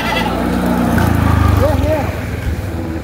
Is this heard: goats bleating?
yes